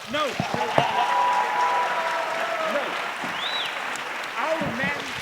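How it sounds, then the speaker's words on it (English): An audience claps continuously at a moderate level while a voice speaks over it at times. "Okay, a bigger applause, please."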